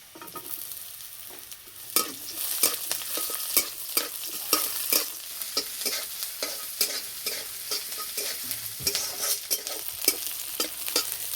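Dried red chili, crushed garlic and chopped onion fry in a pan under a steady sizzle, with rhythmic, close scraping strokes of a spoon stirring throughout.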